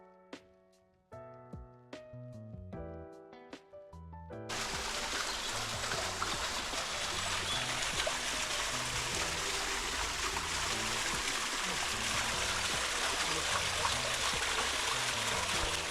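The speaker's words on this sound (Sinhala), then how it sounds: "මෙතනින් වතුර ගලාගෙන ගිහිල්ලා පූල් එකක් වගේ හැදිලා තියෙනවා" Spring water pours steadily into a pool at Glastonbury, a continuous rushing, trickling flow heard close and loud for most of the clip, after a few seconds of piano-like tones at the start.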